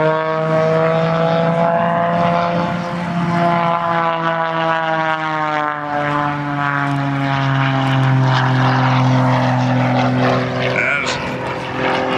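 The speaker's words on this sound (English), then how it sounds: "doing a double hammerhead, unwinding the aircraft all the way back down" An aerobatic propeller plane flies a double hammerhead at an air force base airshow, its loud, continuous engine drone shifting in pitch as it climbs and unwinds back down, with a faint announcer voice under it.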